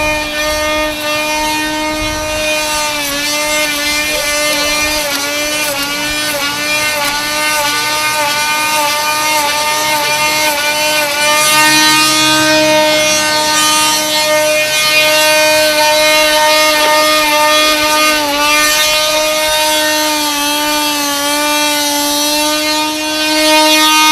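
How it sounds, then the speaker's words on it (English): A large die grinder fitted with a burr bit runs throughout. It gives a loud, close, tonal motor whine whose pitch wavers slightly as the load shifts, with no talking. "This is a die grinder, a large die grinder with a burr bit attached to it."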